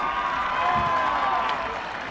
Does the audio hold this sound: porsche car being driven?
no